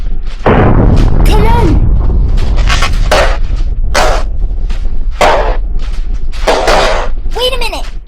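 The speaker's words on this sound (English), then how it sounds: "That's the ship's cannon. They're shooting at the stockade." Ship's cannon firing on a stockade as a radio drama effect, heavy booming thuds repeating beneath excited shouting voices.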